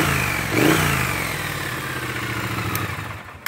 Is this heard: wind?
no